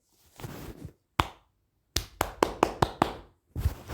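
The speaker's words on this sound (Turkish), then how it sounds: "Alkışlayın." A handful of sharp, separate claps ring out close by with gaps between them, welcoming a new star onto a stage. The claps are sparse rather than a full crowd ovation.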